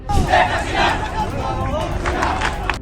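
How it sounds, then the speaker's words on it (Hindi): A large crowd of protesting students in Bangladesh shouts and roars together, a loud, continuous wall of massed voices with surging cries that rise and fall throughout. "बांग्लादेश में छात्रों की भीड़"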